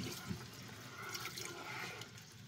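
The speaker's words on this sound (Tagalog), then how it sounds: "Tapos, lalagyan ko na siya ng tubig." A little water is poured into a cooking pan while a stir-fry is being prepared. A soft, continuous, faint pour and splash runs for a couple of seconds, with no talking.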